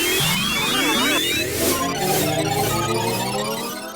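Float spell effect from Final Fantasy VIII: a shimmering synthesized cascade of rising and falling tones with wavering pitches and sparkling high chimes, steady and loud for about four seconds before fading out.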